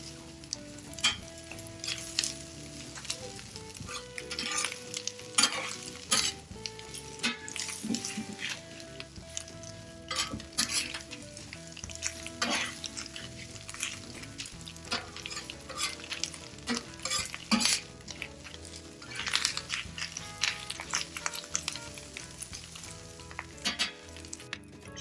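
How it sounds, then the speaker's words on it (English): Chopped brisket with onions and peppers sizzles and pops on a grill, a steady crackling fry with repeated scraping and stirring strokes of a spatula, fairly close and continuous. "Got that brisket popping with that fat, those juices, those onions and peppers are just grilling up."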